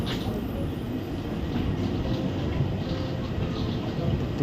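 An airport train in Bangkok, boarded after immigration, rolls along with a steady, continuous low rumble and airy hiss, heard from inside the carriage at an even level throughout.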